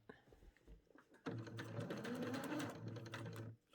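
A sewing machine runs steadily, stitching along a shirt collar, starting after a brief quiet pause and continuing loud and close for a couple of seconds before stopping.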